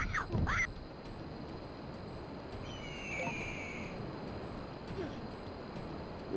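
Bird calls from the Disney's Tarzan PlayStation 1 video game: a short whistled chirp and a longer sustained call, moderately loud against a constant game background.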